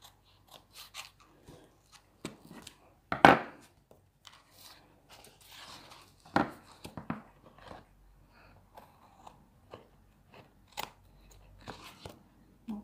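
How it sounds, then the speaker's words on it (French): Scissors trimming excess cardboard at a papered tabletop, with sparse crisp snips and crunchy cuts spaced irregularly, close and quiet between strokes. "Donc je vais venir maintenant couper l'excédent."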